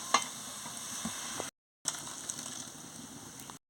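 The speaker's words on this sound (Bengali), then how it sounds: "দেখুন বন্ধুরা, ভালো করে নাড়িয়ে দিচ্ছি।" Vegetable dal being stirred in a cooking pot, a soft scraping and sloshing with light clicks and a faint sizzle underneath, steady and close, broken by a short gap of silence midway.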